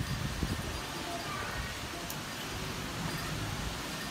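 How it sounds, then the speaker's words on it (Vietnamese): Hailstorm on the first day of Lunar New Year in Tam Nông, Phú Thọ: a steady, hissing patter of hailstones striking surfaces, continuous and moderately loud, with a few sharper knocks near the start. "lâu lắm mới có trận mưa đá như này"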